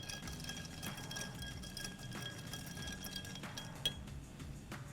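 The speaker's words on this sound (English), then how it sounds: "I'm just going to add my ice to my mixing glass. And give it a good stir." Ice is stirred in a mixing glass for an Old Fashioned at a Kentucky Derby party bar, giving faint, close clinks and light rattling scattered irregularly over a quiet background.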